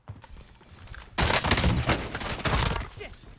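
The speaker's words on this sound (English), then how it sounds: "I'm taking fire!" Gunfire in the video game Warzone, a sudden loud burst of rapid shots and impacts after a quieter start, continuing in dense crackling volleys to the end.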